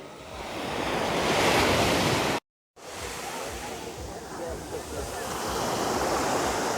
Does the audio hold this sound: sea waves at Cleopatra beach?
yes